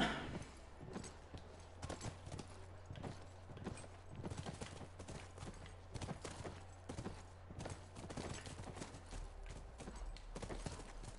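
Horse hooves clip-clop in a steady, repeated rhythm inside a video game, fairly faint and continuous, with an occasional whinny and a low background hum.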